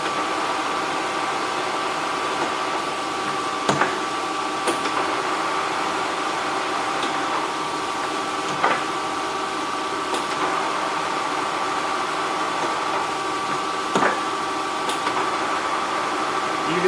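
A Kearney & Trecker 12" x 56" universal horizontal and vertical mill runs with a steady mechanical hum as its hydraulic shift steps the spindle quickly through its speeds, with faint clicks and knocks breaking the drone now and then.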